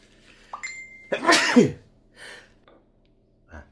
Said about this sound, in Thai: มีอาการจามฟิ่งฟิ่งขึ้นมาเลย